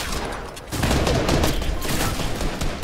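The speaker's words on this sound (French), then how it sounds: "Tire sur le vaisseau" Rapid gunfire in the Fortnite video game, shots aimed at a ship, a dense loud burst of fusillade that swells after the first moment and keeps going without pause.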